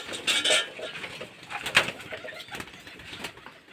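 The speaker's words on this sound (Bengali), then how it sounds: "দেখুন কেমন ঝাঁপিয়ে পড়ে খাচ্ছে দেখুন পায়রাগুলো" Pigeons scramble for food, wings flapping in a quick burst, with soft pecking and clinking against a metal dish and a sharp flutter midway, all close by.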